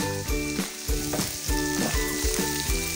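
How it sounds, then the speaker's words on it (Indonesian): Spring onions stir-fried in a pan for Pontianak-style egg rice sizzle loudly and up close, with rhythmic spatula scrapes and clanks repeating roughly every half second, and no voices. "ini aku tumis daun bawang"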